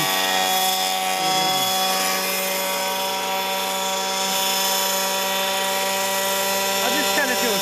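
Remote-control Whiplash helicopter fitted with navigation lights making a slow, low flyby, its steady rotor and motor whine droning loud and continuous throughout, with a faint rise in pitch near the end.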